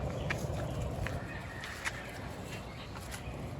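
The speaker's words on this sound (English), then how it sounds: "these chicks and chickens don't mind being together" Soft clucks and faint peeps from chickens and chicks scattered over a steady background rustle, fairly quiet and close by.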